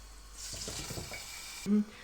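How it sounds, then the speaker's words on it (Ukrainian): Yeast-dough pirozhki frying under a lid in a covered pan, a steady hiss of oil with a cluster of crackling pops, ending in a brief low thump near the close. "Одна партія у нас жариться"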